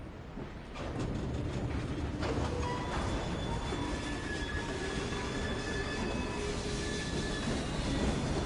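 Train running in Assassin's Creed Syndicate: a steady, rumbling rail roll with wheel squeal and faint thin metallic whines, continuous and fairly quiet, with no talk.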